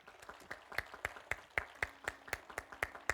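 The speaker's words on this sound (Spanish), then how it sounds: "denle un aplauso al Señor" Church congregation clapping in praise to the Lord: faint, steady rhythmic claps in unison, roughly four per second, with little else around them.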